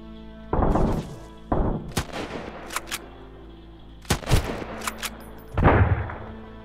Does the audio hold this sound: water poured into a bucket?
no